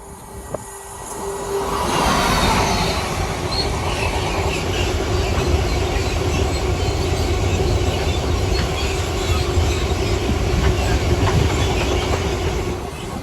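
A train rolls past at Tuxford bound for Peterborough West Yard, building from a quiet start into a loud, sustained close rumble with wheel clatter and rail noise that holds for the rest of the clip.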